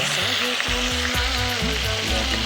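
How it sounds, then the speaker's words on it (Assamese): Meat fries loudly in a pan with a dense, constant sizzle, while a utensil scrapes and stirs it in several repeated strokes close by. "মাংসটো ঢালি দিলোঁ, আৰু এতিয়া অলপমান লৰাই দিম।"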